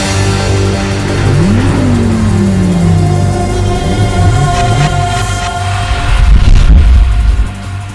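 BMW X5M and X6M engines rev on the Madras Motor Race track near Chennai, loud and close, with a rising pitch sweep, a steady drone and a surging roar near the end.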